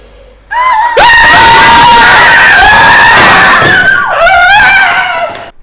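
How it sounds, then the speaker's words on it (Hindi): A person lets out a loud, sustained scream lasting several seconds, with a brief cry at the start and a second rising shriek near the end, set in an office. "ये कौन चीखा?"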